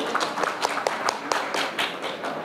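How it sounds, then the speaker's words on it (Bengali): An audience claps at a stage event, a steady patter of applause with brief sharper claps, moderately loud throughout with no speech over it. "তো আমরা জোরে একটা করতালি দিই"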